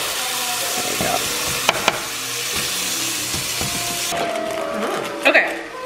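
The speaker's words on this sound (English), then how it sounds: "while the meat is cooking" Partially frozen meat sizzles in a pan with a steady hissing fry, punctuated by a few utensil clicks and scrapes, while a person talks intermittently over it.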